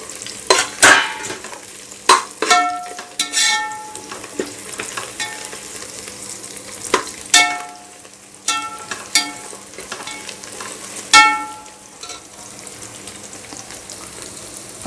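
Mint leaves sauté in a pot for beef biryani, a soft sizzle under repeated loud scrapes and clanks of a spoon stirring against the metal, close and without talk.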